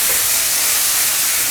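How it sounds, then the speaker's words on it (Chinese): Garlic, leafy greens and button mushrooms hit hot oil in a wok over maximum heat, a loud, continuous hissing sizzle that holds steady without pause or voices. "我先把蒜蓉给它爆香，下入这个青菜和口蘑"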